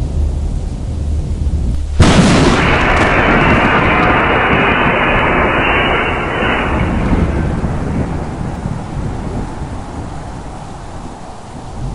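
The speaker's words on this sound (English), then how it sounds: "That atomic thunder of the earth, cracking beneath them, drowned out all things." A thunderous explosion effect in an audio drama strikes suddenly after a quiet opening, a massive loud crack that rolls into a long sustained rumble and slowly fades.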